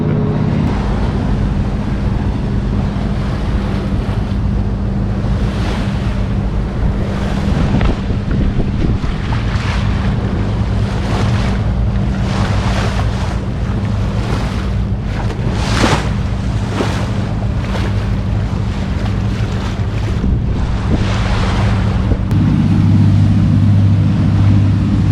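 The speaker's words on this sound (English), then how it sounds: "Here come some waves." A yacht sailing on Sydney Harbour, with steady wind rushing across the microphone and water washing and slapping against the hull throughout. The sound is continuous and fairly loud, and nobody speaks.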